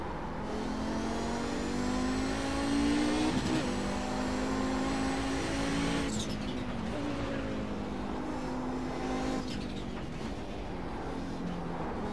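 An Audi 90 GTO race car in iRacing at Imola, its engine droning loud and steady as it accelerates. The pitch climbs through the gears, with brief dips at the shifts.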